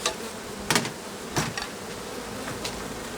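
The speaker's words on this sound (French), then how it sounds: "Je secoue les abeilles, j'en veux le minimum." Honeybees buzz loudly near the microphone while being shaken off a hive frame, the hum broken by a few sharp knocks and jolts as the frame is jerked.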